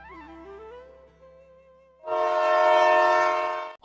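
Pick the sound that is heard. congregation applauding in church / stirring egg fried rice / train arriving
train arriving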